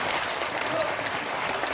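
Audience applause for six people recognised for their efforts at a gathering about unpaid Vietnam War veterans' wages, a steady dense wash of clapping filling the whole stretch at even loudness.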